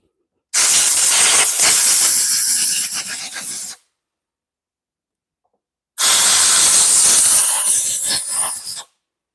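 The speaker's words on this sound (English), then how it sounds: "Probably blow off the carburetor" Compressed air hisses over the carburetor of a backpack blower that will not run. Two strong, close bursts of about three seconds each are separated by a short silence, with no talking.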